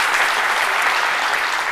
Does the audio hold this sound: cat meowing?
no